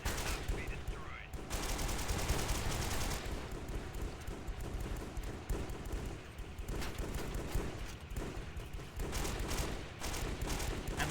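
Gunfire in the 2005 PC shooter Delta Force Xtreme, rapid machine-gun bursts and scattered shots in near-continuous volleys with brief lulls, under occasional voices.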